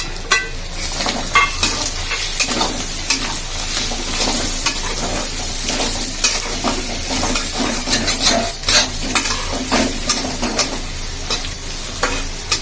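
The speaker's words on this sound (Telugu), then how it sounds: "మధ్య మధ్యలో అడగంటకుండా ఇట్లా కలిపేసుకోవాలి" Chicken liver fry cooking with onion, green chili and curry leaves in a pan, a spatula stirring with steady scraping and clinks over a continuous close sizzle, no voices.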